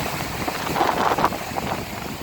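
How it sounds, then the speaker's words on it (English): Wind blows at a cool, breezy Pacific Ocean sunset, a rough, gusty rush buffeting the microphone and swelling briefly in the middle. "Can you hear the wind?"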